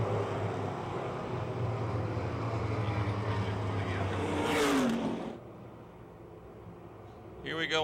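A pack of race cars roars at Pennsylvania Motor Speedway as the field comes back up to speed, a loud sustained engine drone that swells and then fades away, with an announcer talking over it.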